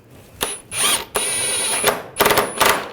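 Ratchet wrench snugging the front lower control arm bolts on a 2009-2017 Volkswagen Tiguan, close and loud, in three bursts of rapid clicking with short pauses between them.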